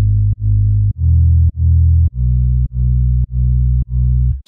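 A synth bass with chorus plays a series of repeated thick low notes, each cutting off sharply without gliding into the next, loud and alone in a steady rhythm.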